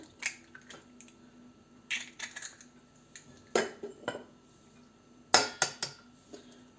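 A dough mixture with egg being stirred in a bowl, giving intermittent clinks and scrapes of a utensil against the bowl in short bursts, close and fairly quiet with no voices.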